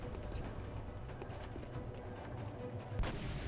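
A gunshot in the XCOM: Enemy Within video game lands amid a dense, continuous game soundscape, with a sharp louder burst near the end standing out over the low rumbling mix.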